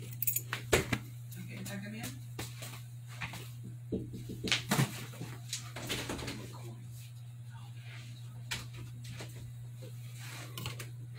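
Keys and spacer rings jangling on a Keybar during a knife and multitool build, a series of close, light metallic clinks and rattles scattered throughout over a steady low hum.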